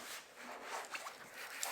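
The zipper of a Divoom Pixoo sling bag is pulled open, a quiet close ragged rasp of teeth running along for under two seconds with a few small clicks.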